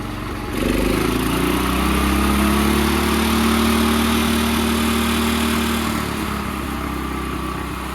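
A John Deere 210 garden tractor's small engine idles, then revs up and holds a steady higher drone for several seconds before easing back slightly; loud and close, no talking.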